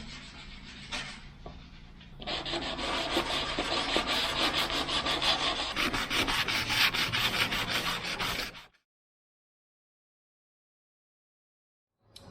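Hand sanding of vintage Bedford truck panels, a steady close rasping scrape that quietens briefly, then runs loud and continuous for about six seconds before stopping, followed by silence.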